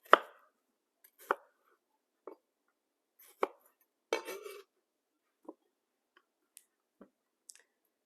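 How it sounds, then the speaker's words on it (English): A knife cuts cucumber into bite-sized pieces on a board, giving a sparse, irregular run of sharp, quiet chops separated by silence. "And then you want your cucumber, when you cut that up, to be basically the same size."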